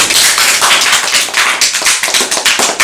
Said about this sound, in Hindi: ताली बजाओ भाई ताली।